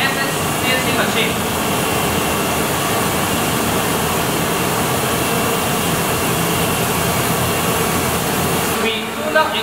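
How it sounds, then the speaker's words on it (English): CNC machine running inside a machining workshop, giving a dense, steady roar of machinery and air that holds level for several seconds before easing off at the end. "This is the 4SS CNC machine."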